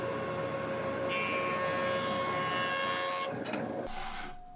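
Jointer planing old, weathered driftwood boards still gritty with sand, a loud continuous rasping whine of the cutter head biting the wood that runs steadily and then winds down near the end.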